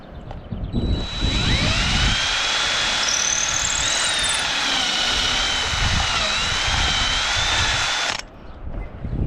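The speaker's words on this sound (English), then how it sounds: "Make the drill go." A power drill runs loud and close during the restoration of a 1940s classic sailboat, spinning up to a high, steady whine that wavers in pitch for several seconds before stopping abruptly.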